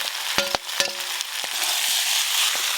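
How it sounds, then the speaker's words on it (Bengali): Fried potatoes and prawns tossed with spices in a pan, opening with a few sharp metallic spatula clanks against the pan, then a loud continuous sizzle. "সব একসাথে ভালো করে মশলার সাথে কষে নেবো"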